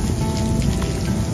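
Steady, dense rain pours down at NAS Pensacola in a continuous broadband hiss, loud and close, with no voices.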